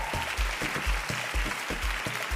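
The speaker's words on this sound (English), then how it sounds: "Keep clapping, keep clapping, keep clapping." An audience applauds as a guest, the CEO of a TV channel, walks to his seat at an event; a steady, fairly loud wash of clapping with regular low thumps running through it.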